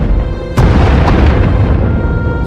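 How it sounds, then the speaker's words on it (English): Heavy booming blasts from bombing in a Star Wars video game, one sudden loud explosion followed by another impact and a long rumbling tail, with no talking. "Sounds like the bombing's getting closer."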